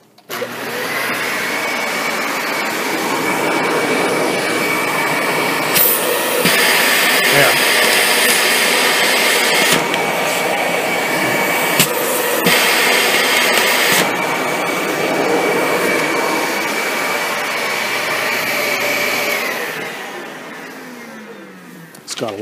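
A Dyson DC65 upright vacuum cleaner runs loud and steady on carpet, its motor whine holding throughout and rising briefly in pitch mid-run as the pressure relief valve kicks in, then tapering off near the end.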